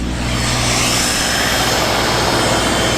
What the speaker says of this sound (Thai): รถเร่งเครื่องเอง ไปดูเครื่องว่าเครื่องเร่งเอง